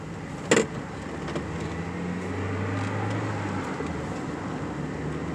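A 1991 Mazda MX-5 Miata (NA) being driven, its engine a steady low drone with rising tonal hum and road noise throughout, plus a brief knock near the start.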